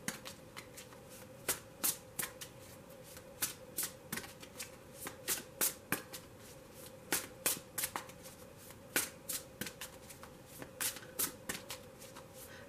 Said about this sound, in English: Since I've started this, shuffling this deck